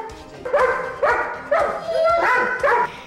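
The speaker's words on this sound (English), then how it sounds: "his barking just drives us nuts" A Doberman barks about five times in quick, loud, close bursts, spaced roughly half a second apart, with no talk over it.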